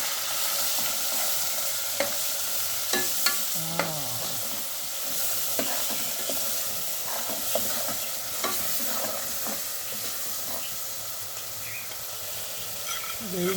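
A gravy masala with garlic frying in a pan as a spoon stirs it, steady low sizzle broken by regular clinks and scrapes of metal on the pan over about thirteen seconds, with no talking.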